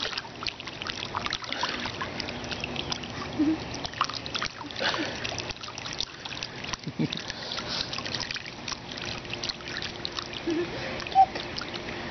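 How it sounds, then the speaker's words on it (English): A baby on a first visit to a pool kicks and splashes, making irregular, close, soft water slaps and trickles. Faint adult voices murmur in the background. "Splash, splash. We like the water."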